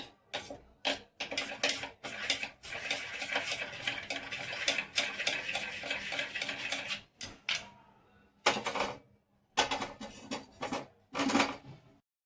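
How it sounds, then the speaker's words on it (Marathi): Dry masala and oil are mixed onto paneer pieces in a bowl, giving close, intermittent bursts of wet scraping and clinking, with short pauses between strokes. "आता मी पनीरला सुका मसाला सगळा तेलात मिक्स करून लावलेला आहे"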